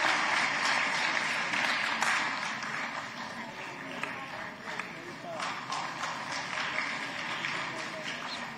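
An audience at a Madhya Pradesh government ceremony applauds in steady, dense clapping throughout, while a voice speaks over a loudspeaker.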